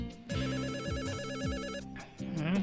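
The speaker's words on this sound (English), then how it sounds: "The phone is ringing." A telephone rings inside a video game, a synthetic warbling ring repeating in bursts for about two seconds, loud and close, followed by a short change of tone.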